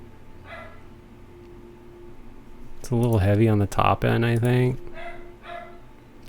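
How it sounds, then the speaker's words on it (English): A neighbor's dog barks and yelps for a short burst in the background, moderately loud, while a person keeps talking over it. "Apologize for the barking, that's my neighbor's dog."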